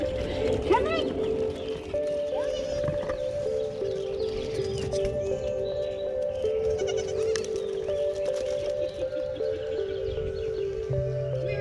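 A goat in labor bleats in short, strained cries against a steady background drone, with occasional shuffling movement nearby.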